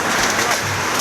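Hailstones pour down steadily outdoors in Purba Baru, Madina, a loud dense hiss and patter filling the whole short clip without pause.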